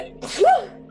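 A single short human sneeze, close and loud, with a sharp intake and burst, heard alone.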